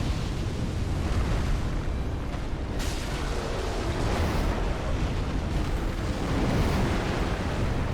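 Midir, the dragon boss in Dark Souls 3, sweeps a ground fire attack across a wide area, giving a sustained, loud roaring rush of flame that rumbles steadily for several seconds with no speech over it.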